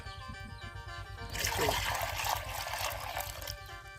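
Scooped water poured out into a bucket outdoors in a rice field, a loud, rushing splash that starts abruptly and then tapers off over about two seconds, with a voice and a low hum around it.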